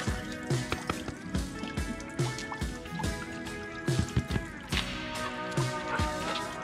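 Water draining out of an RV water heater tank, with irregular drips, splashes and gurgling spurts close by and no talking.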